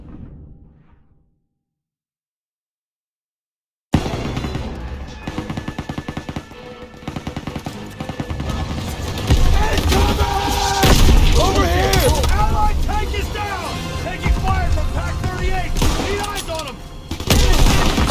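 Gunfire from a World War II battle in Call of Duty WWII, with dense machine-gun bursts and booming shots building after a brief silence, loud and continuous with voices calling out beneath the fusillade.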